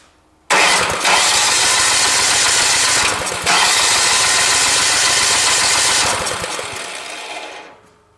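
A new snow blower's small engine is pulled over by its starter and runs loudly for about seven seconds with a brief dip partway through, then winds down and stops. It is heard up close and no one speaks.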